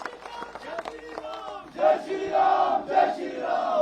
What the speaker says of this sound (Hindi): इसमें जोरदार ताली और नारे जयराम ठाकुर जी के लिए होने चाहिए।